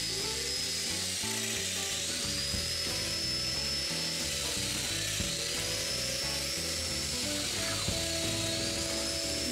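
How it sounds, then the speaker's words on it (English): A domino joiner cuts mortises in wood for a transformable chest of drawers, giving a steady, loud, high-pitched motor whine with a rhythmic chattering of the cutter running through the whole stretch. "I mark for domino mortises and drill them"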